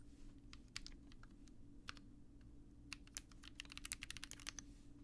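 Rapid typing on a mechanical keyboard with KTT Rose switches, PBT Cherry Blossom keycaps, an aluminum plate, hot-swap sockets, light lube and no foam, giving close, crisp irregular clacks in quick bursts during a typing test.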